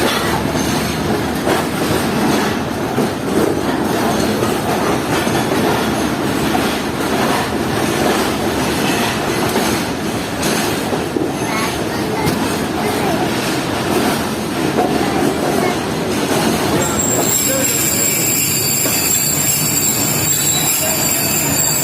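Rawal Express night train rolling on rails, a loud continuous rumble with rhythmic wheel clatter and rushing wind throughout, joined near the end by a high metallic squeal.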